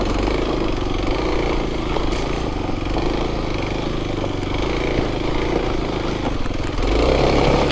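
A Kawasaki motorcycle engine drones steadily and loudly up close, a continuous mid-pitched rumble that swells slightly near the end, with no speech.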